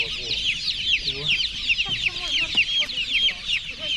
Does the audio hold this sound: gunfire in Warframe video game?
no